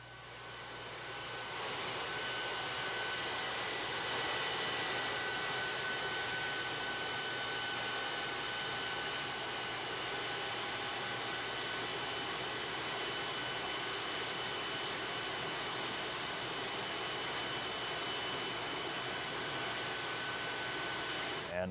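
A plane taxies into a hangar at Ellington, its engine a steady, loud, broad roar with a faint whine that holds throughout.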